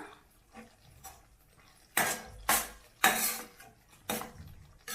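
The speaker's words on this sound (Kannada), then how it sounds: "ಇದೆರಡು ಹಾಕ್ಕೊಂಡು ಚೆನ್ನಾಗಿ ಮಿಕ್ಸ್ ಮಾಡ್ಕೋಬೇಕು ಇದನ್ನು" Egg masala with pepper powder and garam masala being mixed in a pan, a series of sharp metal spoon scrapes and clinks in irregular bursts, close and fairly quiet, with no talk.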